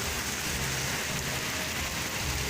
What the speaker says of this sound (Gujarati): સાંજના લગભગ 5:15, 5:30નો સમય છે અને જબરજસ્ત વરસાદ પડી રહ્યો છે